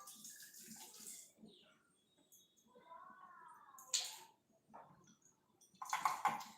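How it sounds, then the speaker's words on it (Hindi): Small coriander leaves are washed in water two or three times, with soft splashing and trickling that rises into a few louder sloshes, close by and fairly quiet. "छोटा धनिया है तो अच्छे से 2-3 बार धो रही हूँ मैं पानी से"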